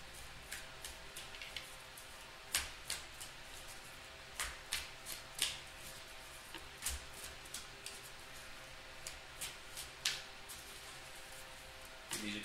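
Tarot cards are shuffled repeatedly, with crisp riffling snaps and soft flutters in an irregular rhythm, close and quiet.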